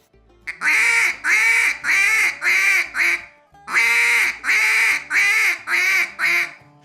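A duck call is blown in a begging cadence, with pressure put on and then let off, giving two loud close runs of drawn-out, two-syllable quacks with a short pause between them.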